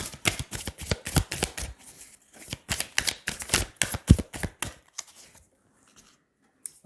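Tarot cards are shuffled and laid out, a dense run of close, crisp riffling slaps and flicks that thins into a few sparse taps at the end.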